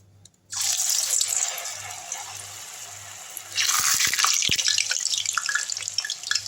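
Rice-flour murukku dough pressed into hot oil hisses into a steady, close sizzle that starts abruptly and swells louder halfway through, with no talking.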